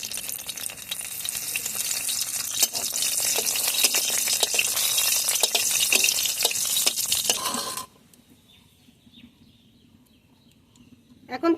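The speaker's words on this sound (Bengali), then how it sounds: "তেল গরম হয়ে গেছে। এখন শুকনো মরিচ দিয়ে দেব।" Dried red chillies fry in hot oil for a Bengali gram-greens bhaji, a loud crackling sizzle with sharp pops that suddenly drops away to near silence.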